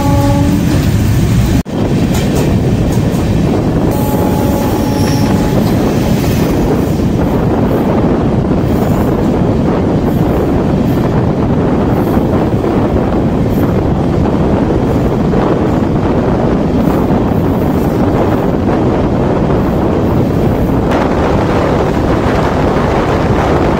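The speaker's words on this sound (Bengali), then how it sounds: "এখন আমরা পার করছি দমদম জংশন রেল স্টেশন, আর আমাদের সাথে প্যারালাল হচ্ছে একটি মালগাড়ির।" Kolkata Sairang Express at speed through Dum Dum Junction beside a parallel goods train, a loud continuous roar of wheels and rushing wind heard from on board, unbroken and with no voices.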